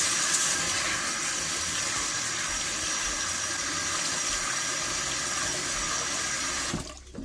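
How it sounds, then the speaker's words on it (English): Running water streaming steadily from a kitchen tap while jasmine white rice is washed, a constant close hiss that cuts off near the end with a few clinks. "we're gonna wash the rice, and this is my jasmine white rice. I'm gonna wash it."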